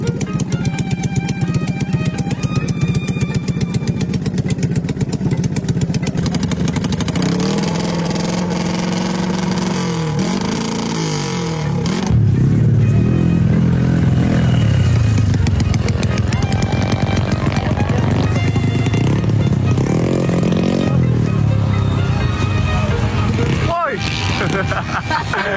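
A motorcycle engine runs steadily with a droning, uneven tone that swells partway through, heard under lively talk from people nearby.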